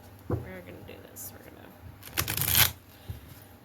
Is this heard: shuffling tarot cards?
yes